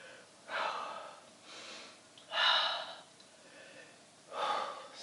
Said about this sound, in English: I know I'm breathing, it's warm today.